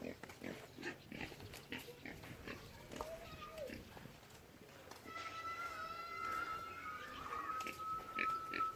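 Pigs grunting and oinking in a village in Bagan, Myanmar, heard through someone talking in French, with scattered snorts, then some high squeals and calls standing out toward the end.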